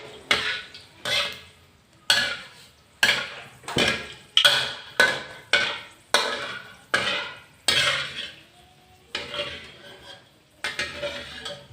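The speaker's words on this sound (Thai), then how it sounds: "ทอดพริกแห้งต่อเลยนะครับพริกแห้งไม่ต้องทอดนานนะครับ" Dried chillies are tossed in a frying pan, heard as a rapid series of sharp metallic clinks and scrapes from a utensil striking the pan in a steady rhythm, close and clear with no talk.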